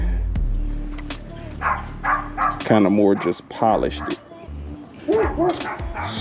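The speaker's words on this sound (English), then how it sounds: "excuse my dogs barking in the background" Dogs bark and yip repeatedly nearby, some yelps high and whiny, while a person talks over them.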